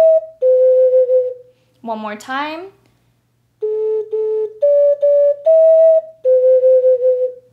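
Ocarina playing a short stretch of a melody, clear sustained flute-like notes that stop briefly while someone speaks, then continue in a rising and falling line.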